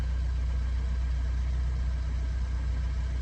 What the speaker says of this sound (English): Let's just give it a little bit of a rev.